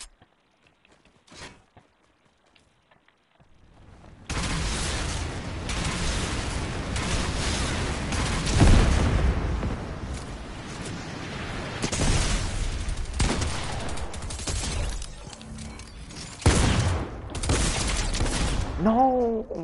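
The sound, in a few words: gunfire from two players shooting in the video game Fortnite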